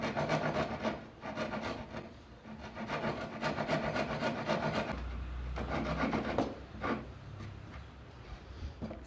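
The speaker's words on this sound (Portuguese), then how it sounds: "Agora você vai moldando isso na grosa." Hand rasp shaping a wooden carving mallet head, rounding its sides: steady, close rhythmic rasping strokes with dense gritty scraping that continues throughout, alone without talk.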